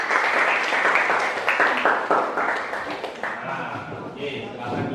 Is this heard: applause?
yes